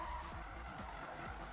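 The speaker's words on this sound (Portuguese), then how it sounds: "O ronco desse carro é muito sinistro, velho" A BMW M3 GTR in the Need for Speed video game drifts with engine roar and tire skidding, low revving sweeps and squeal repeating several times in quick succession, close and steady.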